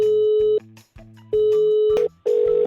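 A telephone busy signal after the other party hangs up on a prank call: steady beeping tones in repeated on-off bursts, loud and close, with no talk over them.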